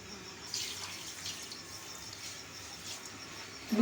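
A glass of water splashes into a container of ground peanuts and sugar for singpak, a soft continuous trickling wash at moderate volume, rising briefly in a louder burst at the end.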